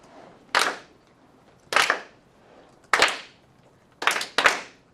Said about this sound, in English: Let's clap it all together